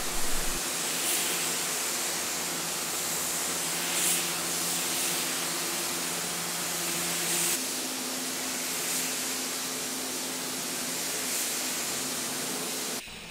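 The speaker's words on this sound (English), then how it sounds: "mix up our base coat, fill the cup, lay 2 to 3 coats of base, and then 2 coats of heavy clear." A spray gun lays base coat paint onto a car hood during an auto body touch-up repair, giving a steady, loud, continuous hiss that runs unbroken with only slight pulses.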